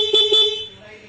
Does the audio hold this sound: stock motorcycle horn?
yes